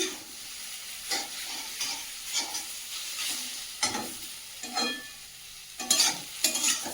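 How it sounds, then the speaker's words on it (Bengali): Chandramukhi potatoes fry in a pan while being stirred, giving a steady close sizzle broken by repeated scraping stirs, with no talking. "ভালো করে ভেজে নিতে হয় ভালো করে ভেজে নিচ্ছি"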